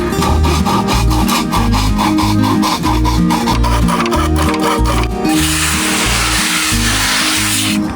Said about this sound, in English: Just got to cut off these edge pieces and do a bit more sanding